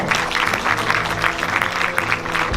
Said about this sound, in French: Sous vos applaudissements, bien évidemment.